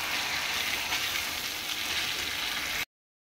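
Duck meat slow-frying in a pan, a steady close sizzle and crackle of hot oil running evenly without pause, with no voices over it.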